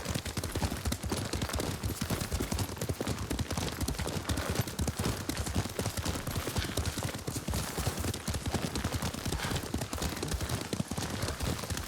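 Rapid hoofbeats of a galloping horse in the video game Ghost of Tsushima pound steadily and loudly throughout, a continuous clip-clop rhythm with a dense noisy background.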